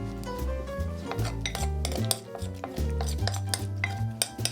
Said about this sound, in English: Continue to mix the mochi to distribute the walnuts evenly.